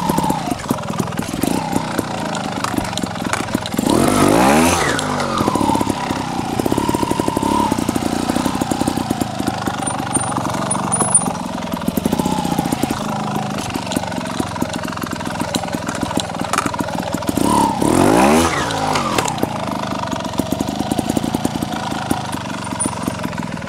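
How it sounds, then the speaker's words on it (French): A 2023 TRS trial motorcycle rides over an obstacle, its engine buzzing and idling steadily, then revving in two sharp bursts as it climbs, loud and close throughout. "Je prends la TRS 2023 et je fais le même déplacement"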